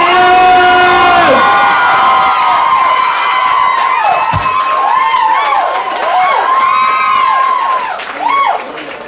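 A live comedy audience cheers, whoops and yells loudly for a comedian called to the stage, a dense steady roar of voices with shrill individual shouts rising above it throughout.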